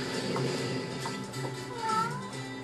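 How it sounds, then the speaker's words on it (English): A cat meows indoors, with a few short, faint-to-moderate meows spread across a background of room noise, the clearest one near the end. "No, quit meowing."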